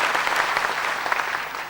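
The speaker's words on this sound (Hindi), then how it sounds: "एक बार जोरदार ताली हो" Audience applause at a spiritual discourse gathering in Tirupati, a dense burst of steady clapping from many hands, close and continuous for the short span.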